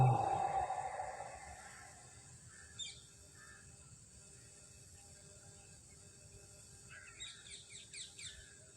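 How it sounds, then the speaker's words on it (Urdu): Birds chirp and call outdoors in short, scattered bursts, with a cluster of quick tweets near the end. They are fairly faint over a low background hum, and there is a louder sound at the very start. "پرندوں کی آوازیں سنیے ابھی"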